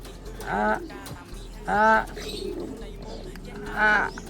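Racing pigeons coo in three distinct, fairly loud bursts spaced a couple of seconds apart, with quiet background between calls.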